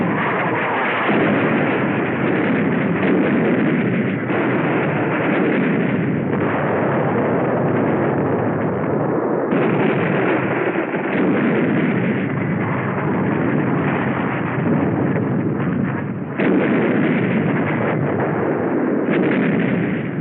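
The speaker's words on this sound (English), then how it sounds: "The Navy begins to soften up the island so we can land." Naval bombardment shelling Iwo Jima in 1945 wartime film audio, a dense continuous roar of heavy gunfire and explosions with repeated booming bursts, loud and unbroken throughout.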